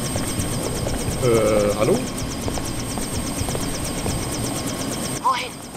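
Helicopter in the video game Deus Ex: Invisible War, a steady rotor chop running throughout beneath game sounds, with a voice speaking briefly over it.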